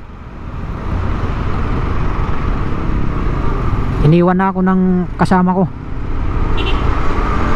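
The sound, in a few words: road traffic noise at a stoplight in Tayuman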